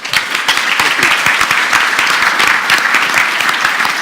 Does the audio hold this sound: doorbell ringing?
no